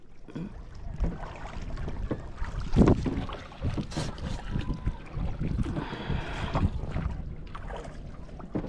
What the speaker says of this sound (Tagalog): Grabe lakas pa rin yung ano. Mahangin pa rin.